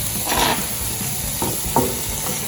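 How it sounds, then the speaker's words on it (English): Bacon sizzles in a preheated pan, a steady close frying hiss with a few brief clatters and stirring scrapes over it. "I'm gonna add that bacon in there."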